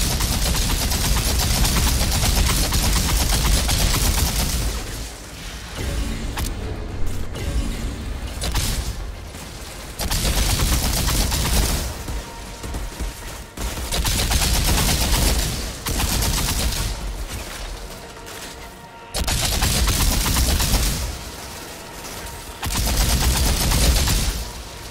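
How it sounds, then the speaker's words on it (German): Dense gunfire from the shooter game Outriders comes in loud, sustained bursts of automatic fire and booming blasts, broken by short quieter gaps between volleys. "Der schießt doch die ganze Zeit auf mich"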